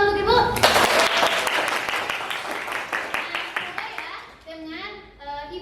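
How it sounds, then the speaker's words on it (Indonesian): Children in an Indonesian classroom clap for their teacher, a quick ragged burst of close hand claps that fades within a few seconds, with kids' voices over it and speech resuming at the end. "boleh tepuk tangan untuk Ibu"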